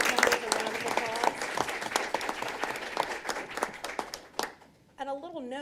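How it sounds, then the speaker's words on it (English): A crowd at a county Board of Commissioners meeting applauds with dense, sustained clapping that tapers off near the end, then a person begins speaking. "let's give them and all school board members a round of applause"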